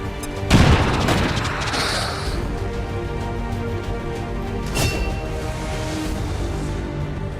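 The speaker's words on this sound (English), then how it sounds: "Grenade out!" A grenade goes off in the video game XCOM 2, one loud booming blast near the start followed by a lingering rumble and a second smaller crack later, all under constant battle noise.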